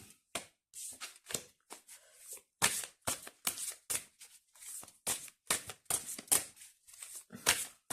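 Large oracle cards being shuffled by hand, a rapid series of crisp riffling bursts and slaps in an uneven rhythm, close and clear with no talk.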